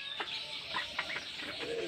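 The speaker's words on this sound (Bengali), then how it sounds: "ও দেখেন রেডি মুরগি কত বড়।" Chickens on a duck and poultry farm, a few soft clucks and short calls close by over two seconds, with no one talking.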